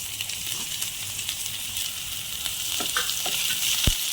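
Finely chopped large onion sautéing in hot oil, a close, steady crackling sizzle with occasional stirring clinks and a sharp knock near the end.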